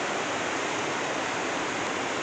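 The Manalsu river near Manali rushes in a loud, continuous broadband roar of flowing water, steady and close, with no voices.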